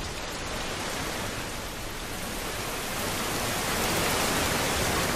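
Heavy monsoon rain pours down in Bharuch, Gujarat, a dense, even hiss of countless drops striking surfaces that swells slightly louder toward the end, with no voices.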